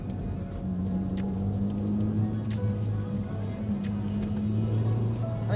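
A small car's engine drones steadily while driving, with low tonal hum and road noise throughout, close and continuous, no talk over it.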